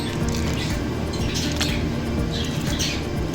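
Wet squishing and dripping as water is stirred into wheat dosa batter with onions, a steady close mixing sound with no talk.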